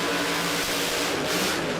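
Pro mod drag race car engine at the Sydney Jamboree revving hard, a loud, sustained high-RPM roar held near the microphone with a slight swell toward the end, no talk over it.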